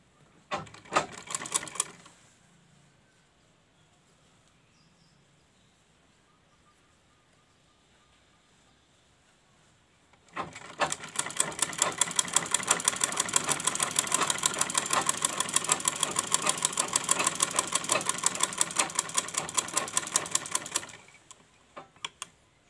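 A domestic sewing machine stitching fabric: a short burst of rapid mechanical chatter, a long pause, then about ten seconds of fast, even stitching that stops abruptly.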